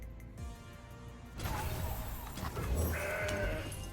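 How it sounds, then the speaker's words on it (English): A goat bleats in the Legends of Runeterra card game, a bright game sound effect arriving over layered background music and clattering effects, fairly loud and lasting a couple of seconds. "It's my goat."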